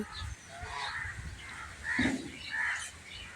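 Fifteen-day-old quail calling and chirping nearby on a quail farm of about six hundred birds, several overlapping calls with a low background hum.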